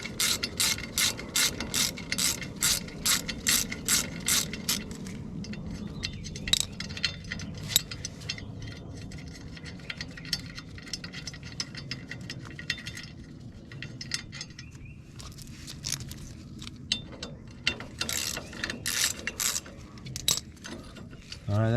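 A ratchet wrench clicks rapidly while backing out a 7/16 bolt on the belt guard of a Ventrac 4500Z mower. The fast, steady ratcheting bursts run close and loud, with metallic clinks between strokes.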